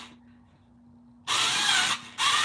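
A pink plugged-in Black & Decker drill whines in two bursts as it bores holes in a tin can, loud and close, with a short pause between the bursts and near silence before them.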